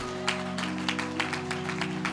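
A church congregation claps hands in a steady, even rhythm, about four claps a second, over a sustained organ chord, moderately loud and without any talking.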